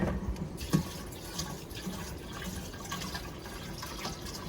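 Rainwater from gutter-fed barrels runs steadily into a container, a soft continuous splashing and trickle heard close up, without talking.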